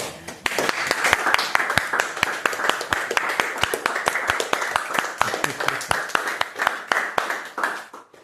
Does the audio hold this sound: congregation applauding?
yes